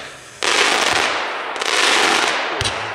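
A Tide Power Shooter 25-shot consumer firework battery fired at a dealer demonstration in Nuremberg: a sudden loud, dense crackling roar of rapid shots, a brief dip, then a second sustained burst ending in a sharp final bang.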